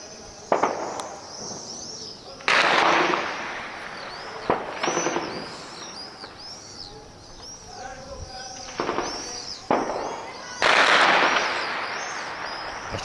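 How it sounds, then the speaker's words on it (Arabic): Heavy shelling strikes the besieged neighborhoods of Homs, Syria, in 2013, with several loud, sharp booming impacts spread across the stretch over a constant shrill background din. "صاروخ أرض الآن يسقط على أحياء حمص المحاصرة"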